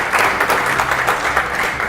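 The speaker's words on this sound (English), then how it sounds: "So please give them a big round of applause." A crowd applauds the Cayman Airways team in a short burst of dense, steady clapping, fairly loud and close throughout.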